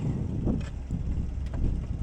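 A Gleaner combine harvester engine runs steadily just after its first start, a loud, constant low rumble with rough exhaust pulsing throughout and no talking.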